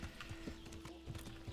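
Horse hooves clip-clop steadily in the medieval video game Kingdom Come: Deliverance, a quiet rhythmic trot over a constant hum of game ambience.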